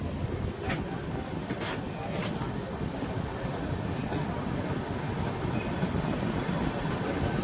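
Steady rumbling roar of the Howrah Intercity Express in motion near Bolpur Shantiniketan, dense and continuous, with occasional sharp clanks and brief high squeals over the rolling noise.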